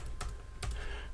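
Keystrokes on a computer keyboard during setup of an RTL_AirBand receiver on a Raspberry Pi: two quick, close clusters of key taps over a low background hum, with no voices.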